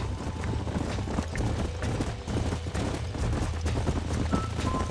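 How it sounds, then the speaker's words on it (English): Horses running in the video game Red Dead Redemption, a dense, continuous rumble of hoofbeats blended with the game's ambient noise, loud and unbroken. "There's the horses!"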